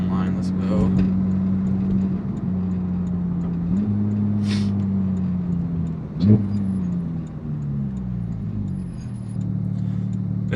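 A straight-piped Porsche GT3 exhaust drones loudly and steadily while driving, its low tone rising and falling as the revs change, with a brief sharp thump partway through.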